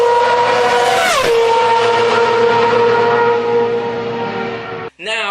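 A screaming V10 Formula 1 race car engine howls loudly close by, pitch swooping down sharply as it shifts, then holding a high sustained wail before cutting off abruptly into a brief different burst at the end.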